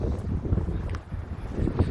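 Wind buffeting a microphone beside a lake at a reservoir, with a steady low rumble and gusty swells that rise and fall across the whole stretch, no voices.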